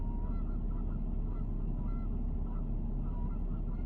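Geese honking outdoors at sunset, faint distant calls repeating irregularly over a steady low rumble of wind or engine noise.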